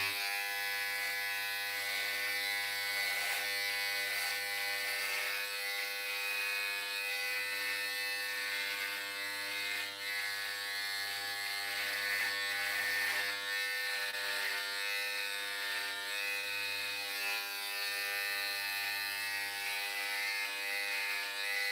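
Electric clippers cutting hair buzz steadily and continuously at moderate volume, a constant mechanical hum with no talking.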